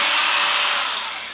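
A STIHL GTA 26 battery garden pruner cuts through a branch, giving a loud, steady high-pitched whir that tapers off slightly at the end of the short cut, with no talking.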